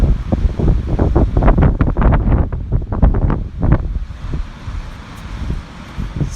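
Strong wind roars and buffets against a microphone at a beach where a DJI Mavic Pro drone flies, with surf mixed in; loud, gusty bursts for the first four seconds, then easing to a steadier, quieter rush.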